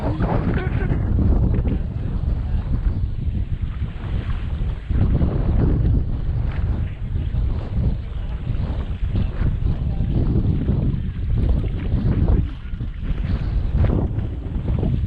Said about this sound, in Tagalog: Kalakas pa naman ang hangin na yun.